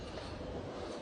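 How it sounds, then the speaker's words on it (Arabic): A TGV high-speed train, travelling at about 320 km/h, rushes past as a loud, steady broadband roar that holds at full strength for the whole moment with no gaps. "هاي لك وين جاي القطار الفائق السرعة تي جي في 320 كيلومتر في الساعة"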